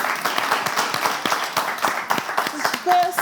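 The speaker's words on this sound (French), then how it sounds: "Applaudissez encore une fois." Audience applause after a balance exercise in a fitness class, steady patter of clapping throughout with a voice speaking over it near the end.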